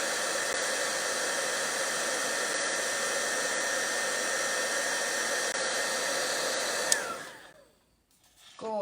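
Heat embossing tool blowing on a stamped card, a steady loud whirring hiss of hot air that runs continuously for about seven seconds, then cuts off and winds down to near silence.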